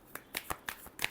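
Quick riffle of a tarot deck being shuffled, about five short crisp card flicks in a second, close and soft, with no talking.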